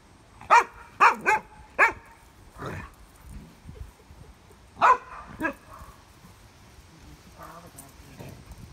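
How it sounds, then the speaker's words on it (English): Irish terriers bark in sharp, separate bursts: a quick cluster of three or four barks, then a few more after a pause, moderately close, with quieter rustling and faint sounds in between. "No, that dog always barks."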